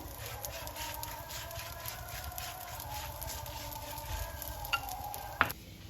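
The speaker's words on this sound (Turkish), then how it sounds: "Tavamı ocağa aldım. Şöyle üzerine indirerek kızarmasını sağlıyorum." Potato-filled gözleme flatbread browning in a lightly oiled pan, a faint steady sizzle with soft rhythmic pressing sounds and a couple of brief knocks near the end.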